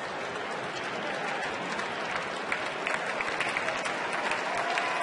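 A baseball crowd at a Cincinnati at Colorado game reacts to McHenry's big league debut with a broad, sustained roar and clapping that stays steady throughout, no announcer heard over it.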